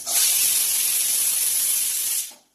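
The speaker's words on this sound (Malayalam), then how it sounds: "നമ്മൾ കുക്കറിൽ ഒരു വിസിലടിച്ചു" A pressure cooker whistle vents steam while sambar cooks, giving one steady, loud, close hiss of about two seconds that stops cleanly and leaves silence.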